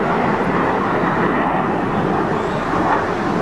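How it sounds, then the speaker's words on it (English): A US Navy and Marine Corps F-18 Hornet jet roaring past an airfield runway, a loud broad steady rush of engine noise filling the whole stretch with no voices. "Okay, here come the fast movers now. There we go. F-18 Hornet."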